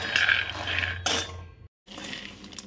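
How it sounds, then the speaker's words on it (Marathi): Peanuts rattle and scrape in a dry pan as they are stirred, clinking against the metal, with a brief moment of silence partway through. "तर चला आता मी शेंगदाणे भाजून घेते"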